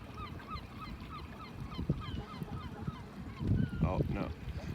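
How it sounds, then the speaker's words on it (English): Gulls chasing a bald eagle give repeated short calls over steady outdoor background noise, faint to moderate and somewhat distant, with a louder burst of calling near the end. "a bald eagle being chased by gulls."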